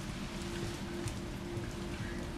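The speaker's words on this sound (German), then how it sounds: "Und es regnet," Rain falling in the Resident Evil 3 video game, a soft, steady patter heard quietly throughout with a faint low hum underneath and no talking.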